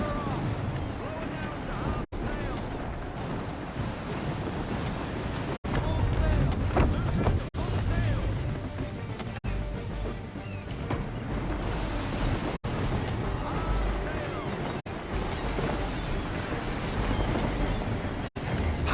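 A sailing ship cuts through ocean waves in Assassin's Creed III Remastered, with steady surf wash and wind noise running throughout, while voices talk over the sea sounds.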